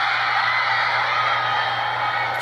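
A concert crowd shouts and screams for a K-pop boy group. A dense, sustained high-pitched roar of massed voices holds steady and loud from start to finish, with no distinct individual speech.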